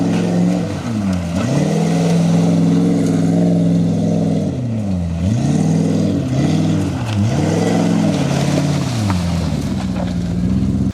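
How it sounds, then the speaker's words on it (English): An off-road Jeep runs loud and close through burnouts and donuts, its engine rising and falling in repeated revving swells as the wheels spin, a steady roar for the whole stretch with no talking. "So I hop in the Jeep, I do a couple burnout or donuts"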